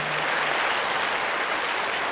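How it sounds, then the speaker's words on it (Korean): A dense, steady wash of audience applause fills a hall during a 2022 Gyeongnam governor candidates' social welfare policy forum, sustained and even throughout with no talk over it. "큰 박수 부탁드립니다"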